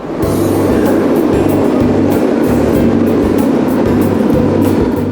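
A Paris RER commuter train rumbles steadily and loudly, with a low rhythmic clatter of wheels over rail joints repeating about every half second and broad rushing noise throughout.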